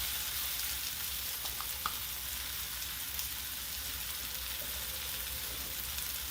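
Canned corned beef fries in a pan with a continuous even sizzle, close and moderately quiet, with a few soft scrapes as it is stirred and no voices.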